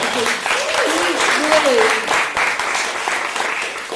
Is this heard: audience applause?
yes